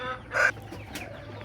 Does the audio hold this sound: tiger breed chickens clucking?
yes